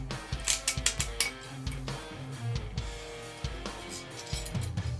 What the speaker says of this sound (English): So I'm just going to put the lock nut for now.